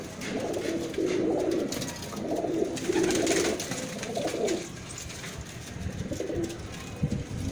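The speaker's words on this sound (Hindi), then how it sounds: "बड़ा अच्छा ब्रीडर कबूतर है" Breeder pigeons in a Lahore loft cooing in repeated soft low bursts, several rounds across the stretch, close by over steady background noise.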